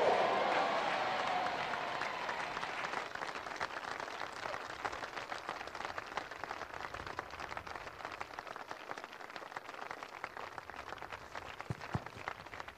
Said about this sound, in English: Is that all the clapping you can do?